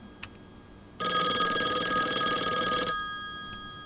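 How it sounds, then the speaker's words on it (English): An old telephone rings in the horror game Call of the Elder Gods, one loud continuous bell burst lasting about two seconds before cutting off into quiet. "The phone's ringing."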